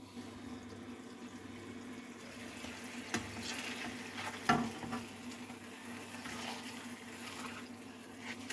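Burgers cook in a pan, giving a steady, quiet sizzle with faint watery crackle throughout and a couple of brief clatters near the middle.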